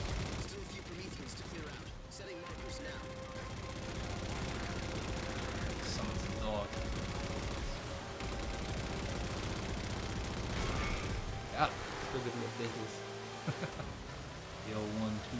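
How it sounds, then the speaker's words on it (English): Turret gunfire in the Halo game Spartan Ops, sustained rapid automatic bursts and booming shots running under continuous battle noise, with a few sharper blasts toward the end. "there's another turret firing at them"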